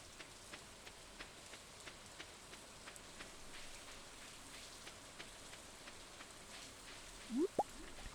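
Gentle rain falls on a beach farm in fall in Stardew Valley, a quiet steady patter with light regular drip ticks, then two quick rising chirps near the end.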